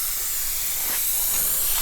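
Spray gun hissing steadily as paint goes onto a drift car, a continuous bright airy spray at close range with slight pulses in intensity, no voices.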